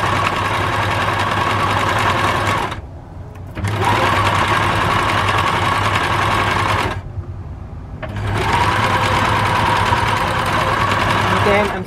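Quilt strips are run quickly through a sewing machine, giving a steady, close mechanical whir that stops briefly twice before starting up again.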